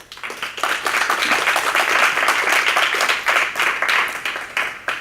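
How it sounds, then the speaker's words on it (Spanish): Audience applause for the poet Armando Valladares at a tribute forum, steady dense clapping from a crowd that swells quickly and holds for several seconds before easing slightly. "para quien pido un aplauso"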